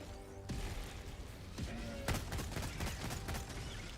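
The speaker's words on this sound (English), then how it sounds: "That doesn't feel like burst fire. That feels like automatic fire." Automatic gunfire in Helldivers during a bug tunnel breach, a dense crackle of shots starting about midway and continuing alongside thuds and impacts, loud and busy with battle noise.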